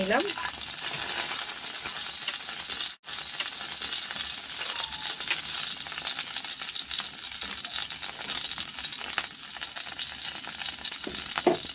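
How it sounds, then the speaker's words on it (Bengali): Whole cumin seeds crackle in hot oil with a loud, continuous frying hiss, punctuated by stirring scrapes, plus one abrupt brief dropout early on. "এবার এর মধ্যে আমি গোটা জিরে ফোড়ন দিলাম"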